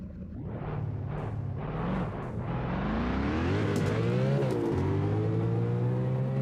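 A big Mopar drag race car launches hard at Navaro Airport, its engine roaring loudly as the pitch climbs steadily through the gears in a sustained, powerful acceleration.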